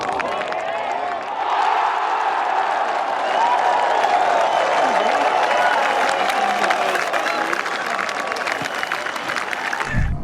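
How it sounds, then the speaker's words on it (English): A golf gallery at the 17th hole of the Australian Open erupts in sustained cheering and applause after an 8-iron approach shot, loud and continuous for about ten seconds before cutting off abruptly. "And he sent the crowd into a frenzy."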